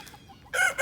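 Backyard chickens in winter: soft clucks at first, then a loud, close burst of crowing-like fowl calling that fills the second half.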